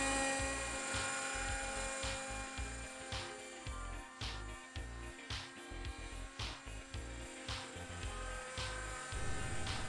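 An RC helicopter with LED rotor blades flies at night, a steady loud buzzing whine of the motor and rotor with rhythmic blade chopping and slight pitch wavers, close and continuous without talk.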